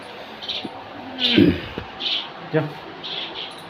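Jungle babblers chirping and squawking in short bursts nearby, mixed with a person talking.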